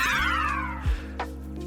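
A pet cat meows once near the microphone, a clear, loud, drawn-out call with a falling pitch, followed by a couple of faint thuds.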